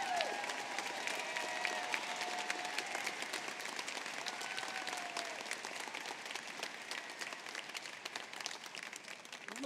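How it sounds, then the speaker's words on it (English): A large audience at a high school graduation ceremony gives a sustained round of applause, with dense, steady clapping and some crowd noise that holds for about ten seconds. "one more round of applause for him."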